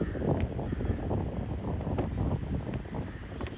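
Wind blows steadily across the microphone at an outdoor lakeside spot in Coimbatore, a continuous rough rumble with faint rustling, moderately loud, with no talking.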